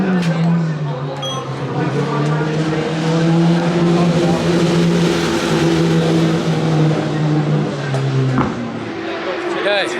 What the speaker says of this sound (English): Peter Hickman is about to cross the finishing line as the winner of the 2022 Isle of Man TT Superbike race